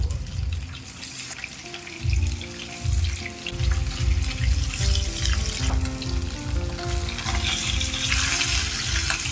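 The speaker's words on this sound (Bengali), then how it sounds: "তেলটা গরম হয়ে গেলে এর মধ্যে একে একে মাছগুলো ছেড়ে দেবো" Fish fry in hot oil in a kadai with a steady, close sizzle. Rhythmic low thumps from handling the pan run underneath, with no talking.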